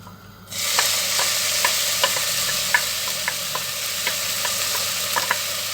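Onions fry in oil in a pot on the stove for a potato börek filling: a steady, bright sizzle starts abruptly and continues, dotted with small ticks and stirring clicks.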